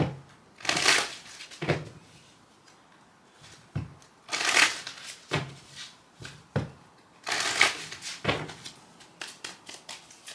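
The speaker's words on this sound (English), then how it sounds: "Let me do a quick shuffle" Tarot cards being shuffled in several quick riffling bursts, each a crisp fluttering rush, separated by softer taps and shuffles of the deck, close by with no talking.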